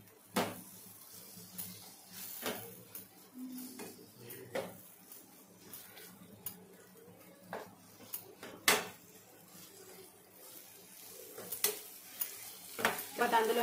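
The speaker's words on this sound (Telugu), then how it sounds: "అందులోనే కట్ చేసుకున్న టమాటా ముక్కలు, వీటిని కూడా ఒక 2-3 మినిట్స్ బాగా ఫ్రై చేసుకోవాలి" Chopped tomato pieces fry in a pan for egg biryani, with a quiet sizzle under frequent irregular spoon scrapes and clinks against the pan, some strokes louder than others.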